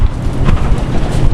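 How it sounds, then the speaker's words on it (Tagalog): Strong coastal wind roars steadily across a microphone, a close, loud, rumbling rush of buffeting gusts with no let-up. "sobrang hangin mga kaiski, lakas ng hangin masyado"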